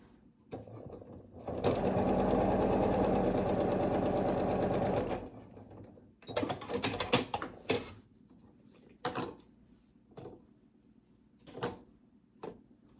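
A sewing machine runs in one steady, loud burst of several seconds while chain piecing quilt blocks with a quarter-inch seam, followed by handling clicks and fabric rustles.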